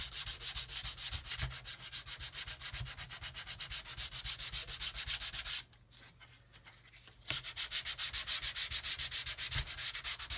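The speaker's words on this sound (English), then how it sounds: "Tempted to sand some more of the top wing away." Steady back-and-forth sanding strokes on the wing of a model aircraft laid flat on a workbench, a continuous close rasping rhythm that pauses briefly midway before resuming.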